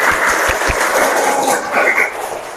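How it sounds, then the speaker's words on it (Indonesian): Scattered classroom applause for a primary school student at SDN 1 Benteng Jaya, a steady patter of many small hands clapping close by, with a few louder thumps near the start. "Oke, tepuk tangan untuk Nada."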